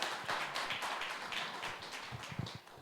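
An audience at a tech venture pitch event applauds briefly, a dense patter of many hands clapping at moderate level throughout.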